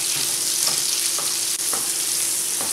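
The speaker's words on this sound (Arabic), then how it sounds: "الزيت سخن وتوا باش نبدا نقلي كل كعبات نتاع الكفتة" Sardine kefta balls fry in hot oil with a steady, dense sizzle throughout, broken by a few soft stirring or oil-splashing pops, close and fairly loud with no talking.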